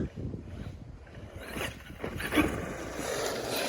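A Traxxas Sledge RC truck fitted with paddle tires churns through sand, a rough whirring motor and gritty spray that swells into a louder burst midway, close and without talk.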